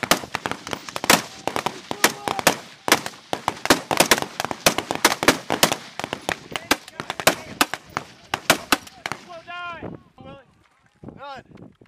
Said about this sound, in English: What range are you shooting that at?